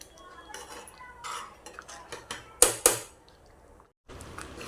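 A spoon stirs thick rice kheer with ghee in a pot, giving soft scraping and a few sharp metallic clinks against the pot, with brief pauses between strokes.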